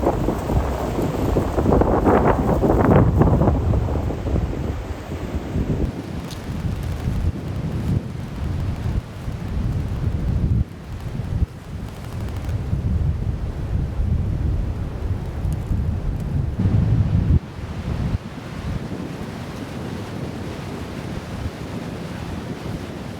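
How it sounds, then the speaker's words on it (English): Strong wind batters a backpacking camp on North Fork Mountain, West Virginia, roaring continuously and loud with gusting surges, buffeting the microphone close up, with no voices. "So hopefully this wind dies down"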